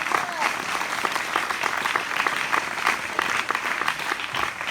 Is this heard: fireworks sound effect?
no